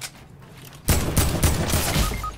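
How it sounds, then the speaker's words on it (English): Gunfire in Fortnite Battle Royale: after a quiet start, a sudden loud burst of rapid shots lands about a second in, followed by several more close, sharp reports in quick succession. "I got sniped again."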